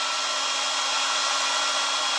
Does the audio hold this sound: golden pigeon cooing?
no